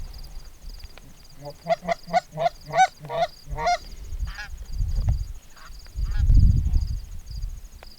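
Geese honk in a quick series of loud, close calls during an early-season goose hunt in North Dakota, followed by softer scattered honks and low rumbling wind or movement.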